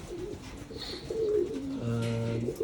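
Japan line breeding pigeons in a loft section of hens, with soft repeated cooing and low throaty calls building toward a sustained coo near the end, close and clear with no talk.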